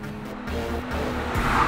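A 2017 Kia Stinger GT with its bimodal exhaust held open accelerates hard, the engine note rising loud and close alongside a brief tire squeal.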